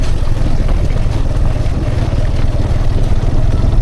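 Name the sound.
motorbike riding on dirt track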